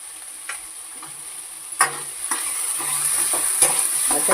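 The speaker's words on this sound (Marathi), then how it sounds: "आता हे सगळं ना कमी गॅसवर थोडंसं 2-3 मिनिटासाठी ठेवून द्यायचं, कारण बटाटी चांगली शिजली पाहिजेत ना" Thin potato slices sizzle and fry in a pan over low gas for kanda poha, with steady frying hiss and occasional sharp stirring clinks and scrapes, close and moderately loud.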